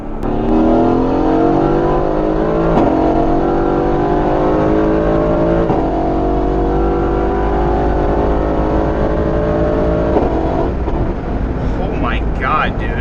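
A 650whp AMG car pulls hard from 60 mph, its engine note climbing in three long rising sweeps with gear changes between, loud and close from inside the cabin, easing off near the end.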